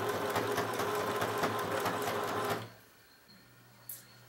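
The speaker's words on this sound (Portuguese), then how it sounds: "Aí agora eu vou passar uma costura desse lado" A sewing machine runs fast and close, stitching the seam of a fabric bread basket with a zipper in a steady buzzing whir for about two and a half seconds, then stops, leaving a quiet room and a brief click.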